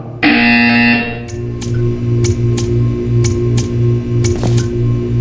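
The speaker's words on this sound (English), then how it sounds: "When you hear the buzzer, stare at the art." A harsh electronic buzzer in the video game Portal 2 blares for about a second, then stops, followed by a regular ticking pulse over a low repeating tone.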